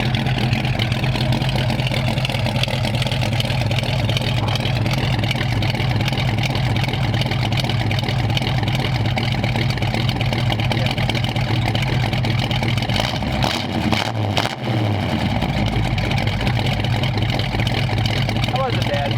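Engine idling steadily after some adjustment, a loud, close, continuous rumble with an even throb that briefly dips and stumbles near the end.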